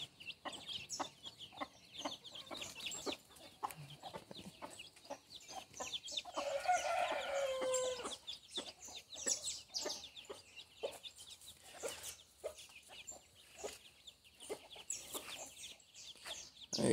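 Hens and their chicks being let out in the morning, clucking and peeping in scattered bursts across a farmyard, with a louder flurry in the middle.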